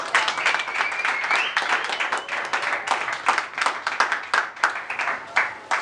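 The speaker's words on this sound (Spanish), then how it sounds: "Así que un aplauso para los nacionales." Audience applause and clapping at a live presentation event, a dense, steady patter of many hands filling the room near and loud, with faint cheering tones mixed in and no speech.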